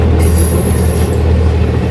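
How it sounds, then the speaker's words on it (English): A train passes on a railway line in Kenya, a loud, steady rumble of wagons rolling close by with a faint high wheel squeal, no talking. "Train is coming. Train is passing here."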